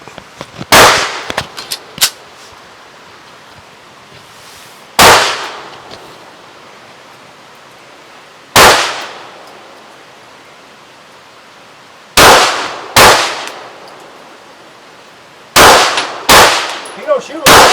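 Gunshots from a first-time shooter, about nine sharp loud reports spaced irregularly with short decaying echoes, some in quick pairs, with no talking.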